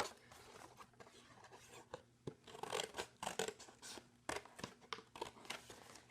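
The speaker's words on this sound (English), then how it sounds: "you can start to cut things out." Scissors snipping through cardboard along traced shapes, a run of close, crisp cuts and crunches in irregular bursts with soft rustling between them, no talking.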